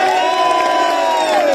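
A large crowd at a school annual sports event cheers and shouts loudly and continuously, with a sustained collective tone and no clear separate claps.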